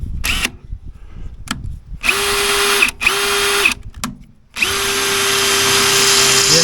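A power drill bores holes for an outboard motor mount on a Frewza B21 boat, running in several loud, close bursts that whine at steady speed, separated by brief stops, clicks and handling noise.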